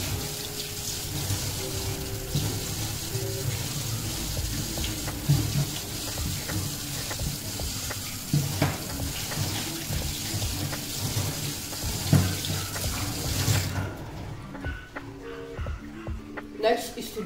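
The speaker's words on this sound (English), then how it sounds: "rinse hands with warm water and keep your fingertips pointed down while rinsing" Warm tap water runs steadily from a faucet into a sink while hands are rinsed, a continuous broadband splashing wash that stops abruptly near the end, leaving quiet low hum.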